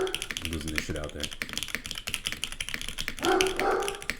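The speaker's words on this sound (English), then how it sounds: "Excuse my dog." A pet dog named Jax barks a few times in another room, heard under nearby clicking from a mechanical keyboard being typed on, with a person talking over it.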